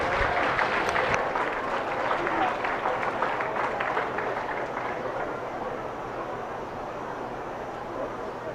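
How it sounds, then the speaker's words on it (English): A crowd at a 4-H and FFA beef showmanship and steer show claps steadily for several seconds, a dense, even patter that slowly thins toward the end. "Let's give him a big round of applause."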